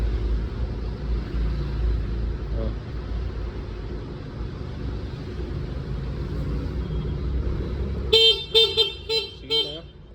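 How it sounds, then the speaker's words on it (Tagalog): An Easyride 150CL motorcycle sits with a low engine rumble, then its horn sounds in several short, close, bright beeps near the end. "Busina po."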